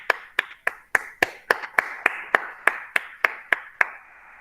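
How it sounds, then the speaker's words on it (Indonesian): Sharp hand claps ring out about a dozen times at an even, brisk pace in a classroom, crisp and close with no talking. "Beri aplaus dulu dong."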